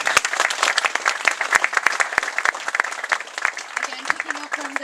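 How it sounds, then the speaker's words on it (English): A crowd at a local awards event gives a hearty round of applause, close, crisp claps in a busy patter, with a voice starting to speak over the clapping near the end. "So a huge round of applause for him."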